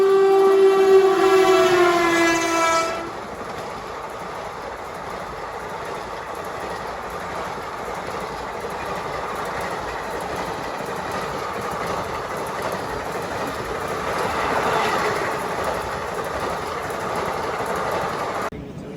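At an Indian railway station, a train horn blares for a few seconds, then a passing train's steady loud rumble and clatter of wagons continues close by without a break.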